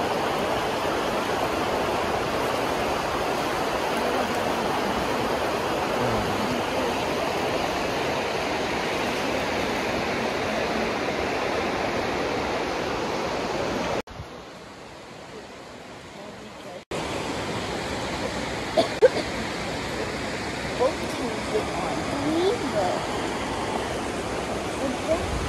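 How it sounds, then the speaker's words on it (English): Broad steady rush of the Athabasca River flowing near Wapiti campground in Jasper, Canada, on a rainy day, continuous and fairly loud, briefly cutting out midway before returning with faint occasional knocks. "This is the Athabasca River."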